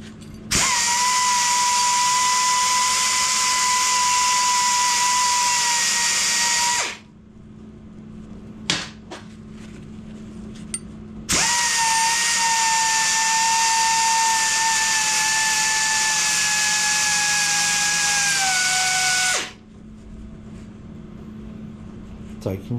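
Power tool grinding burrs off metal motorcycle tank brackets, a loud sustained high whine in two long bursts with the pitch sagging under load, separated by a short quiet gap with small clanks.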